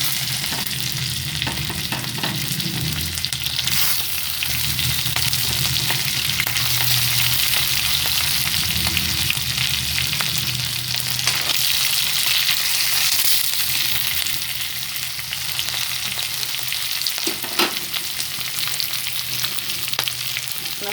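Green chillies and curry leaves fry in hot oil for a Kannada-style sabudana khichdi. A loud, continuous, close sizzle hisses throughout, with occasional stirring scrapes and no talk.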